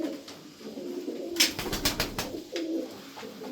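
Several tumbler pigeons coo softly and repeatedly in a quiet space, with a brief louder burst of wing flutter or movement partway through.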